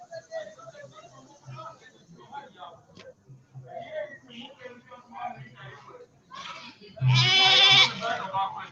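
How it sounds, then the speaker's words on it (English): Goats bleat near a newly renovated school, with a loud, close bleat toward the end that follows quieter bleating and background voices. "And the obligatory goat shot."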